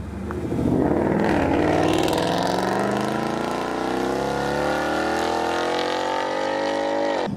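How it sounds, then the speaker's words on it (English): Ford Mustang V8 revving hard on a road test drive, a loud, close engine note rising through the gears with smooth upward pitch sweeps, then easing off at the end. "We're using the proper professional microphones outside the car to pick up this gorgeous V8."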